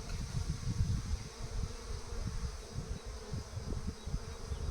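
A honeybee swarm buzzes steadily and close up while its hive frames, partly filled with honey, are inspected on the fourth day, a dense continuous hum with no talk over it.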